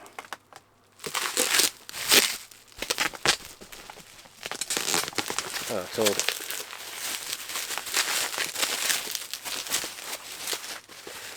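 Crinkly bubble wrap rustles and crackles continuously as packaging is pulled open, with occasional brief talk mixed in.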